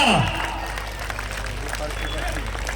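A crowd at a political rally breaks into applause, a scattered, moderately faint clapping patter over a low hum, following a loud amplified voice at the very start.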